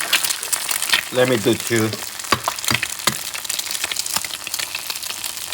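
Eggs fry in a pan for a breakfast taco, giving a steady crackling sizzle with sharp pops and spatters while someone briefly speaks over it.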